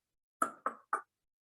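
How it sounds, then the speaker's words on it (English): Three gentle knocks on a bedroom door, evenly spaced and fairly close, each a soft rounded rap with no voices around them. "I heard a gentle knock at my door"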